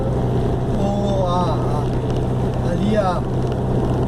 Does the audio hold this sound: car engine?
yes